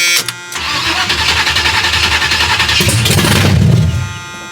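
A 1978 Chevrolet Malibu Classic engine cranks briefly then catches, settling into a loud, steady rough idle with a rising surge toward the end, close by and alone.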